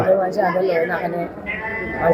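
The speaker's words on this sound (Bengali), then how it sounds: "দর্শক দেখা ভাইয়ে যে ছাগল লই আইছেন ও দেখো একটা ছাগল" Goats bleat among a busy crowd at a cattle market in Sylhet, with the animals' calls mixed into constant close chatter and talking.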